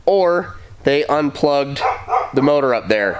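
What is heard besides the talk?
dogs barking nearby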